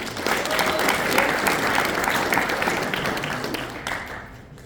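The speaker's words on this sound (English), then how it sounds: "So big round of applause for them." A room of spectators at a chess boxing match gives a big round of applause for the AV crew, dense steady clapping that swells early and gradually fades toward the end.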